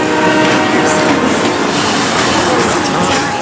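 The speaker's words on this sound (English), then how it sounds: "Miss this train and there's no telling when the next will be." Train at Sector 5 Undercity Station in Final Fantasy 7 Remake, a loud, steady rumble of rolling railcars with a horn-like tone running through it, continuous and close for the whole stretch.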